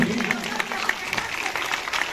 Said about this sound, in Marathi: अस्मीसाठी जोरदार टाळ्या प्लीज